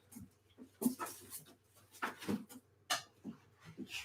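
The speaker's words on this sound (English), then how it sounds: "Dogs are like messing around with each other." Dogs play and roll around together nearby, making scuffling, snuffling and soft grumbling noises in irregular bursts, fairly faint over a low steady hum.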